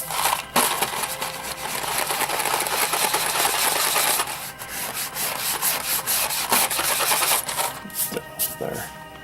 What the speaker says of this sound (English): scraping off that layer of cheesy yellowness that just lays on there, you know. Scrape it off.